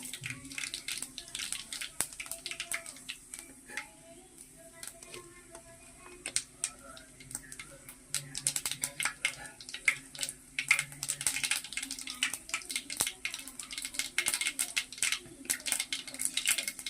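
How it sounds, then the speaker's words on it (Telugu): Mustard seeds, cumin and a little fenugreek sputter in hot oil for a Telugu brinjal and raw mango pulusu, giving a steady run of sharp crackles and pops over a low hiss, close and moderately loud. "ఆయిల్ హీట్ అయిపోయిందండి ఆవాలు జీలకర్ర కొద్దిగా మెంతులు వేసేసుకుందాము"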